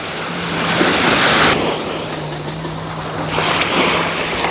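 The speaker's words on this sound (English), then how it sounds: "The sound of the water," Ocean waves at Coney Island beach at night, close surf washing in and surging, rising and easing twice over a few seconds, with a faint low hum and wind rumbling against the microphone.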